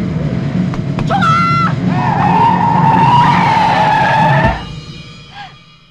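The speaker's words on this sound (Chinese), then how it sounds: "你怎么突然停下来呀？" In a Hong Kong comedy film scene, a car brakes hard to a sudden stop. Its tires give a loud, sustained squeal for about three seconds, then it cuts off into near quiet.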